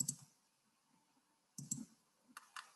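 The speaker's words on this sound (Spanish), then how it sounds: "Simplemente haciendo clic cerca del número pongo puntos de interrupción." Computer mouse clicks set breakpoints in code, crisp close taps arriving in small clusters separated by quiet pauses.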